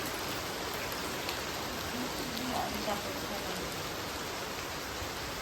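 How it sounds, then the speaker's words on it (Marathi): Steady, even hiss of rain falling without a break, soft and distant, with a couple of brief muffled knocks midway. "पाऊस खूप आहे"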